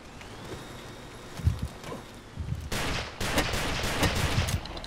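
Pistol shots in the blocky shooter Ace of Spades ring out as a quick series of loud cracks, sparse at first then a rapid cluster in the second half, over a steady game background.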